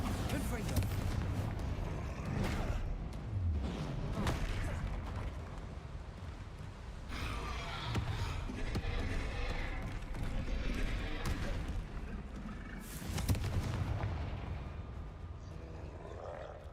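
Repeated Bombarda and Confringo explosion spells in Hogwarts Legacy, with bursts of blasts and crackling impacts recurring across the clip under a player loudly calling out spell names.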